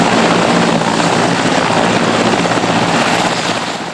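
Military attack helicopter flying close by, a loud, steady rotor roar with dense thumping that holds constant and fades a little at the end, with no voices.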